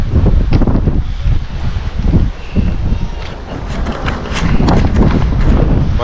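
Strong wind gusting at a seashore pier in Damortis, La Union, roaring steadily and loud close to the microphone, with heavy buffeting and surf-like rumble throughout.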